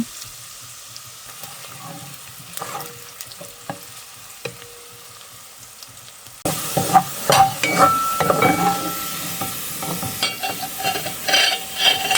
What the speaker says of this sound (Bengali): রসুন আর পেঁয়াজের ব্রেস্তা করে নেব